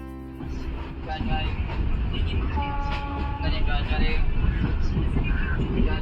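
An overnight passenger train travelling from Kolkata to Shimla runs steadily, its loud rumble and rattling carriages filling the clip with tonal hums and brief horn-like notes, as people talk over it.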